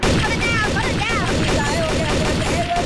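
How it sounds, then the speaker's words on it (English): Gunfire in a Garry's Mod Trouble in Terrorist Town round: continuous loud, dense shots fill the clip while voices call out over the top. "Open fire."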